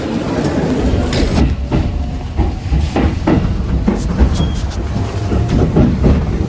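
Steady rumble inside a moving passenger train in Japan, with a low droning roll, rattling clicks and occasional knocks from the carriage.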